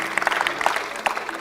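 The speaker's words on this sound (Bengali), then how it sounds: "ওর জন্য হবে জোরে একটা হাততালি" A small audience at a school quiz claps for the winner, Afnan, a brief burst of scattered, uneven handclaps that stays moderately loud for about a second and a half.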